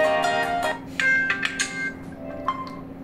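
A short electronic ringtone plays from an Oppo A59 5G phone, a bright melodic sequence of beeping tones, close and clear with a faint background hum.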